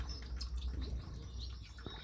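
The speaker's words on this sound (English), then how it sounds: "Mostly silver bills in here" Small aviary birds, mostly Indian silverbills with a weaver finch and a Sudan golden sparrow, give soft scattered chirps and tweets over a low steady background hum.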